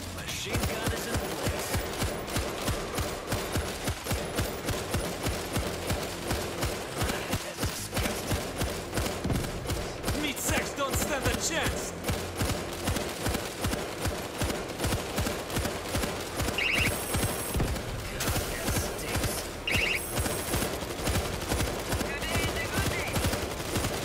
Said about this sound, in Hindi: मैं लेके बैठा हूँ मेरा मशीन गन।